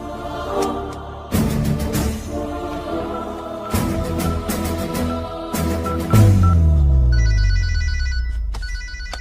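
A telephone bell rings in repeated bursts, loud and close, layered over sustained tones and a low sweeping whoosh.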